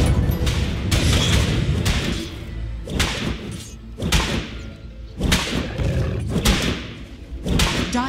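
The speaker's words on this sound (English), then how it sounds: "Dire's middle tower is under attack." Heavy thuds land at a steady pace on the Dire's middle tower in a Dota 2 match, a run of loud booming impacts spaced about a second apart, with a layer of game noise underneath.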